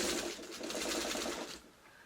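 A sewing machine runs in a steady, fast mechanical whir while stitching a pet bed stuffed with heavy fabric scraps, then stops abruptly near the end, leaving a quieter hum.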